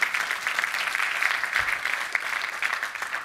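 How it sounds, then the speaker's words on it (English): Audience at a 2018 Marine Leadership Alliance conference giving a round of applause, a steady, moderately loud patter of many clapping hands heard from a little distance, unbroken for the whole stretch. "Give a round of applause"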